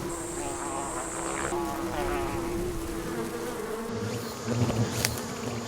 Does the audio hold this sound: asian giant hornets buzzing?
yes